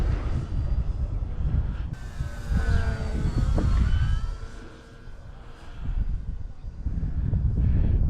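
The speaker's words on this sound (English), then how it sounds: "Really nice flying plane." An H.King Frenzy 1400mm RC model plane flies past outdoors, a faint rising and falling motor whine under steady wind rush, swelling in the middle and fading near the end.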